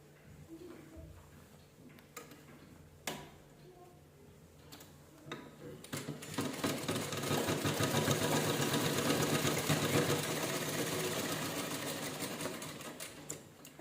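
A domestic sewing machine stitching a child's cap made from an old shirt starts with a few clicks, then runs in a steady, close, rapid whir for several seconds before slowing.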